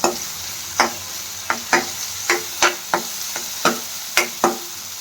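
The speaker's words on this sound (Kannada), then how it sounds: "ಪೈನಾಪಲ್ನ ಫ್ರೈ ಮಾಡ್ತಾ ಇದ್ದೀನಿ ಇವಾಗ." Pineapple pieces frying in a pan, with a low steady sizzle broken by about a dozen sharp scraping stirs at an uneven pace, close and clear with no talking.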